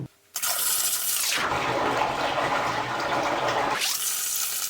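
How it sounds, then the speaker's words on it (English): A 5-gallon bucket of water is dumped into a sump pit in one long, loud, rushing pour lasting a few seconds, then tapering off to a quieter trickle. "we're going to dump our 5-gallon bucket of water"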